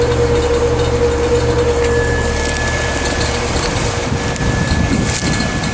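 A 2020 Heil N4H4 1.5-ton heat pump runs in heat mode outdoors, giving a steady close hum with a faint tonal whine and constant low droning throughout.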